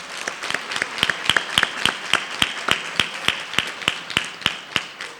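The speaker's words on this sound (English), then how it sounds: "Can we give them one more round of applause?" A crowd gives a round of applause at a school staff recognition ceremony, with individual claps clearly separated in a brisk, even rhythm, close and moderately loud with no talk.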